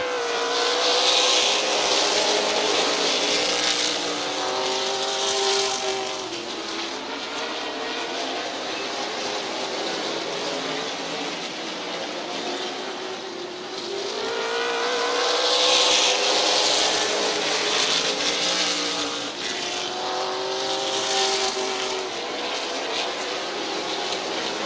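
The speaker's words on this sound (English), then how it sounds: "Neil Rowley fighting a loose race car off of the corners." Race cars roar around Midvale Speedway, a steady loud engine drone rising and falling in pitch as cars pass through the corners.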